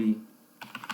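Computer keyboard typing while entering a search for SWI-Prolog: a few quick, close key clicks in the second half, following a brief low murmur at the start.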